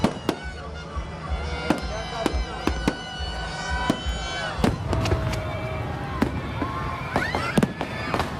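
Fireworks celebrating Pakistan Independence Day burst over Lahore and Karachi at midnight, with sharp cracks and bangs going off every half second or so and denser crackling later, over a constant crowd murmur.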